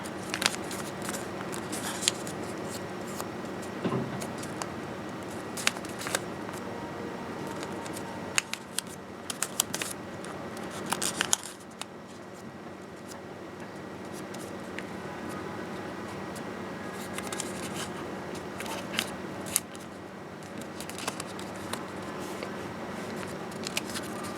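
Paper being folded for an origami sea urchin kusudama ball, soft crinkles, creases and rustles coming in scattered bursts, close and fairly quiet, without talk.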